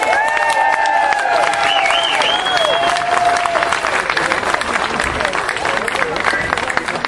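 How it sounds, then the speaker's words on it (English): A protest crowd applauds outdoors at a hearing about an off-leash proposal for beaches, sustained dense clapping and some cheering with voices and crowd babble mixed in, loud and continuous. "I want to give you all a round of applause for all your great work"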